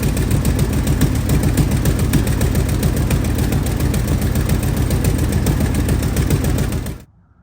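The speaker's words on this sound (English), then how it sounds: "as you can see, it's pretty massive leak." An OBS Chevy truck engine idles with a massive exhaust leak, giving a steady, rapid ticking putter that runs close and loud before cutting off abruptly at the end.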